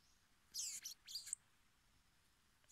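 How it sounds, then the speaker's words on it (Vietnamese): A trapped wild songbird in a forest, caught with a bird trap, gives two quick bright bursts of high chirping and then one faint final note over quiet background hiss. "Để nghe nó hót à."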